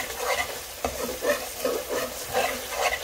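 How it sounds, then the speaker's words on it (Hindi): Tomato masala for moong dal frying in a pan with a spoon stirring through it in repeated scrapes, a steady close sizzle running underneath and no voices. "मैं थोड़ा सा इसमें पानी ऐड करूँगी क्योंकि मसाला तब ही अच्छे से भूनता है जब आप इसमें पानी डालें"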